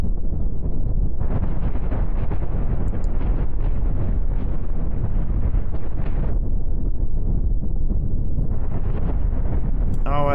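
Rocket missile explosions in the space game Cosmoteer rumble as a dense, booming roar with repeated bursts, heard beneath a person talking.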